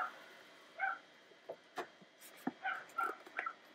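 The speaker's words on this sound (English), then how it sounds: "My neighbor has got some cute little white dogs, but boy, do they bark a lot." Small white dogs bark faintly in the distance, giving a handful of short, scattered yaps over quiet room noise.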